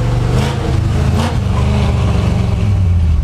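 A five-speed swapped Ford F100 pickup truck driving, its engine a steady loud low drone with a slight shift in pitch midway, heard up close with no talking.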